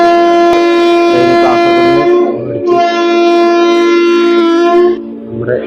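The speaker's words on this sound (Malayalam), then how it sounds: "അങ്ങനെ ഇതാ നമ്മൾ ട്രെയിനിൽ കയറിയിരിക്കുകയാണ്." Netravati Express train hauled by a WAP4 electric locomotive, a loud, close, sustained horn blast with a brief dip midway before it resumes, then fades into low rumbling.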